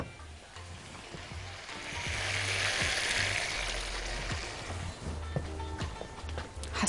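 Tomatoes and tomato paste simmer with a little water in a pan for a liver salad, giving a steady, soft bubbling sizzle that swells in the middle and holds on, with no talking.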